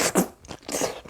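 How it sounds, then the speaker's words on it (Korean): Biting into and chewing a home-cooked dish cut like steak, with a few close, crisp crunches and wet chewing sounds in short bursts, no speech. "한번 먹어보도록 하겠습니다"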